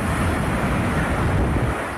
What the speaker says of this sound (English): Within 20 minutes, a rush of waves hit the tiny island nation.